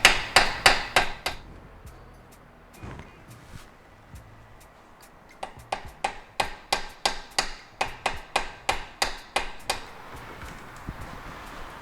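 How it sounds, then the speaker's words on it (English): Sharp metallic hammer blows drive a chisel into a rusted lower ball joint on a 2006 Subaru Outback, a quick burst of strikes, a pause with a few scattered taps, then a long steady run of evenly spaced loud hits. "I also use an old screwdriver or a chisel just to open this up a little bit"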